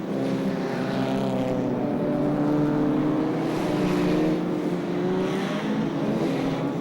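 Superstox stock cars from 1970s Spedeworth racing roar steadily around a track, a continuous loud engine drone with layered rising and falling revs and no pauses.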